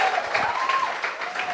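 Audience applause at a Spanish-language sermon given to prison inmates, a steady dense clapping spread across the room that holds at an even level throughout, with a sustained tone running beneath it.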